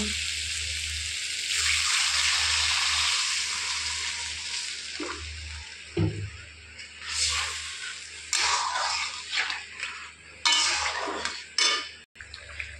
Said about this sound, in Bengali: মশলার থেকে তেল ছাড়াই গেছে, এখন জল দিয়ে দিব